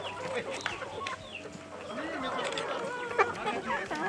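Chickens clucking on a small poultry farm holding over 200 birds, a busy mix of bird calls heard steadily under someone speaking throughout.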